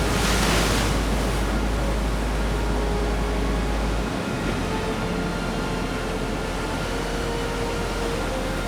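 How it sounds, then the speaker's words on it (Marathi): Monsoon sea waves crashing against coastal rocks below a wide cliff on the Konkan coast, a continuous loud roar of surf and wind with a heavier rush in the first second. "त्या बाजूला ही अक्षरशः लाटा अशा फुटताय, त्यांचा आवाज ऐकू येतोय."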